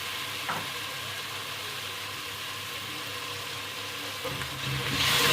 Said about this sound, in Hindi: अब इसमें हम टमाटर डाल देंगे। इसको भी हल्का सा फ्राई कर देंगे।